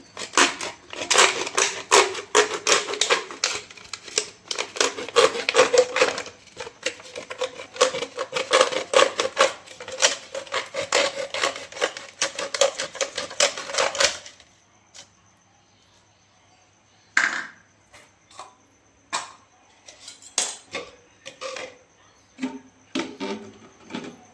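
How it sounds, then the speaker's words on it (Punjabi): A plastic bottle being cut, dense crunching and snipping close up for about fourteen seconds, followed by sparser, separate cuts and clicks after a short quiet gap. "ਦੂਸਰੀ ਬੋਤਲ ਵੀ ਆਪਾਂ ਇਸੇ ਤਰੀਕੇ ਨਾਲ ਹੀ ਵੱਢ ਲਾਂਗੇ ਜੀ"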